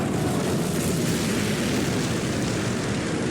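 B-29 bombers roar low over the dam in Fallout New Vegas as bombs burst, a loud continuous rumble of engines and explosions filling every moment with no pause.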